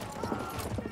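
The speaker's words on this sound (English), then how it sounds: "Oh, there's an enemy horse." Horse hooves clip-clopping in the video game Battlefield 1, a rapid uneven patter of hoofbeats over a dense, noisy battlefield background, brief and moderately loud.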